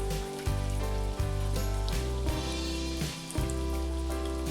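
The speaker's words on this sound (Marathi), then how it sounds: "मी तेलामध्ये हा चुरा देखील तळून घेणार आहे" Vada pav batter crumbs deep-frying in hot oil give off a steady, crackling sizzle that runs through the whole stretch, with background music playing over it.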